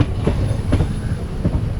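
A train arriving at Palani railway station rumbles along with rhythmic clickety-clack of wheels over rail joints, loud and close, steady throughout.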